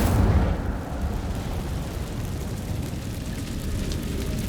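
A fire spell cast in the Hogwarts Legacy video game, opening with a heavy low burst and then settling into a steady, loud roaring rumble that holds through the rest of the moment with no talking.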